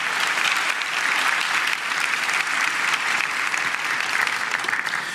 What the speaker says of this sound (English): All of them, give them a round of applause.